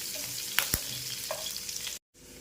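Finely chopped green chili and garlic fry in a pan with a steady, even sizzle and a couple of sharp spatula clicks, cut off by a short moment of silence near the end.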